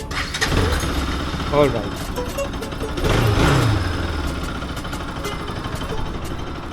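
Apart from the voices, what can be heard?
RS200 motorcycle engine starting and idling after stator repair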